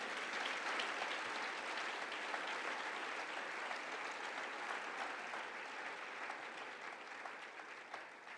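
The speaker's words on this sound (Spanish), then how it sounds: "Denle otro fuerte aplauso" Sustained applause from a church congregation fills the space, a dense even patter of clapping that fades slightly toward the end.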